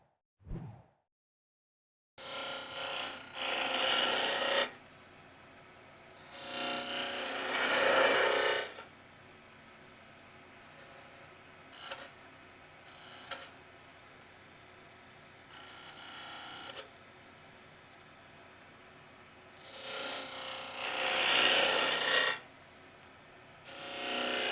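A hand carving tool cuts into wood for a cove, making repeated raspy scraping strokes in bursts of a few seconds with quiet gaps between them, close and fairly loud.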